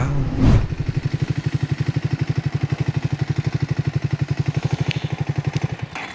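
A Triumph Speed 400 motorcycle runs at a steady pace, its engine giving a fast, even pulsing thrum close by, with a brief louder burst at the start and no speech.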